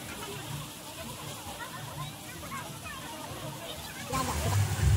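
Water splashes and rushes near a waterfall at an outdoor couples' spot in Pune, a continuous close wash of churning water that swells louder near the end, with people talking over it.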